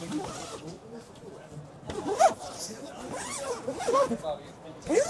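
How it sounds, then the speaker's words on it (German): A zipper being pulled shut on a rooftop tent at a caravan trade show, giving a few quick rasping runs close by, with background chatter and hall noise throughout. "dann kann ich jetzt hier mit dem Reißverschluss das Ding einfach wieder zumachen"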